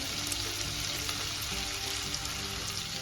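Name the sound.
sautéing chopped carrot, capsicum, sweet corn and onion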